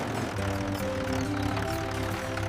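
A red tractor engine runs at a steady idle, a low droning hum with a clear, even harmonic tone and a slight rhythmic throb, close and continuous.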